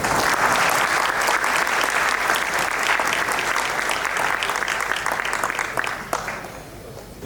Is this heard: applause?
yes